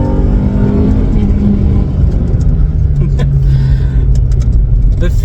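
A Toyota Altezza with a lightweight flywheel revs hard on track, a loud, close, sustained engine drone with pitch climbing and falling through a corner.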